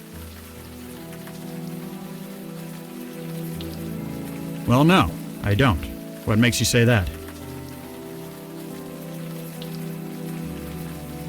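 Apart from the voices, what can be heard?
rain in the video game Unavowed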